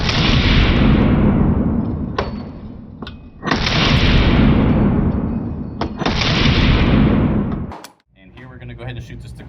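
Pistol shots from a Staccato XC firing 124 training ammo: three loud, sharp reports spaced a couple of seconds apart, each with a long decaying echo, with a few faint clicks between them and quiet handling at the end.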